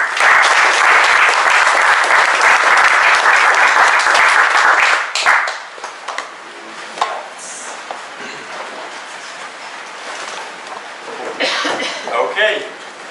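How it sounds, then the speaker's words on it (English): Conference audience applauding a speaker before a talk on building a headless shop, a dense burst of clapping for about five seconds that gives way to scattered coughs, shuffling and murmuring. "a warm round of applause for Pascal, please."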